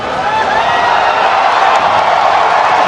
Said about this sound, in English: The crowd has come alive.